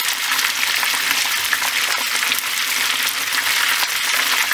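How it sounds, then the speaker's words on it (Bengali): Chicken wings frying in a pan of hot oil, a loud, dense and continuous close sizzle throughout with no voices. "চিকেন উইংসগুলো ভাজা হয়ে গেছে, আমি একটু লাল লাল করে ভেজে নিয়েছি।"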